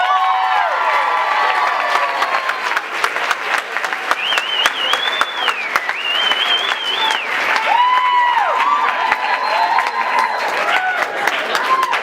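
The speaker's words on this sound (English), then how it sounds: "another hand applause for Jason, please" An audience at a school male talent pageant breaks into sustained applause for a contestant, dense clapping with cheers, whoops and shouts layered over it, loud and continuous throughout, with voices calling out among the crowd.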